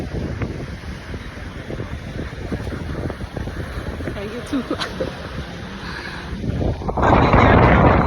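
Strong wind buffets the microphone at the edge of the water, gusting unevenly and swelling to a loud roar near the end, while someone speaks briefly over it.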